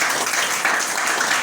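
A crowd at a political meeting in the DRC on federalism gives a brief burst of dense, close applause, loud and continuous throughout.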